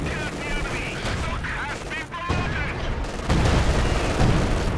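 In Company of Heroes 2, a sector artillery strike lands as a string of dense, loud blasts and rumbles layered over game effects and under commentary.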